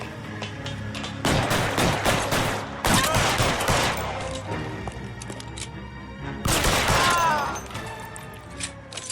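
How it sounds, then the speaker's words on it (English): Gunfire in the video game L.A. Noire during a police shootout: several loud bursts of shots with sharp echoing cracks, separated by quieter stretches of background game sound. "Shots fired."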